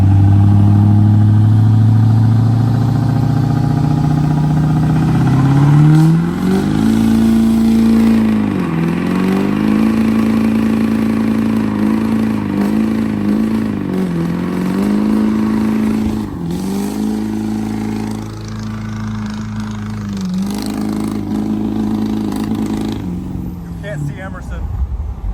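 A lifted truck's engine revs hard as it accelerates through the gears, its pitch climbing and then dropping at each shift, loud and close throughout.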